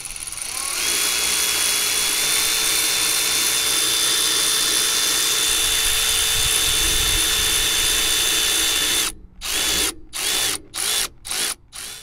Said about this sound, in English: you can either use a flathead screwdriver or an 8mm socket to tighten it up